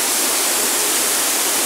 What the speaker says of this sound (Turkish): Samandere şelalesi.